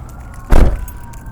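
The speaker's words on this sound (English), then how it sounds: "Lots of police sounds right now." Police siren sweeping past at midnight outside a Main Street plaza shopping center in Mesa, Arizona, swelling loud for about a quarter second before fading into a steady low traffic rumble.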